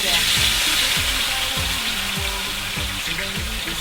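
Fresh tea leaves frying in hot oil in a Thai kitchen: a dense, steady sizzle and crackle with a rhythmic low pulsing, close and continuous.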